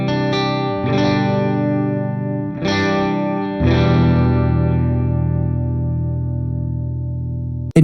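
Electric guitar through a simulated Mesa Boogie Mark II C+ amp with chorus-like shimmer, a few struck chords ringing out and then a long low sustained chord fading slowly, close and alone.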